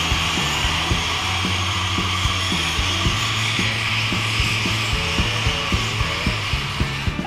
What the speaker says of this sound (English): We've got a guy drilling holes to screw in the machines to the floor.